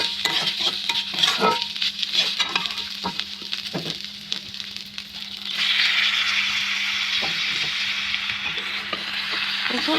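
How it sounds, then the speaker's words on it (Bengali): Moong dal being stirred with spices in a pan while cooking with rui fish heads, giving steady scraping and clinking strokes over a soft sizzle that grows louder and denser partway through. "মুগ ডালটাকেও কিছুক্ষণ নেড়ে চেড়ে মিশিয়ে নেব"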